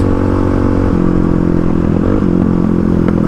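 A Kawasaki KLX351 motorcycle accelerates in sixth gear, a close, loud, steady engine drone climbing slightly in pitch, with wind rush and rattling clatter throughout.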